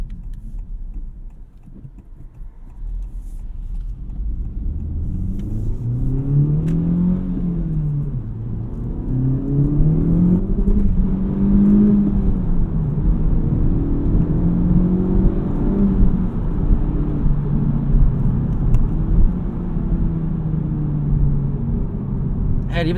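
Engine of a 2023 Honda Civic Type R rising and falling in pitch as it accelerates on partial throttle and drops through gears, a steady droning roar building louder over about twenty seconds with a brief dip at each shift.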